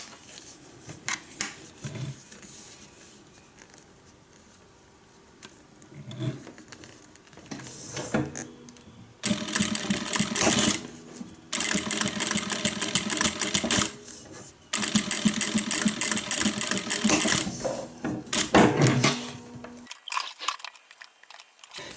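Back stitching on a sewing machine while making a guitar handbag: after quiet handling noises, several loud bursts of fast close stitching run for a few seconds each, separated by short pauses, with no voices.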